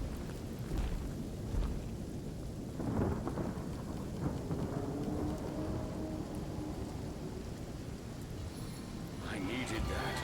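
Rain and thunder from a spell in the video game Divinity: Original Sin roll on as a soft, continuous downpour with low rumbles, fairly quiet, while a voice talks over it at times.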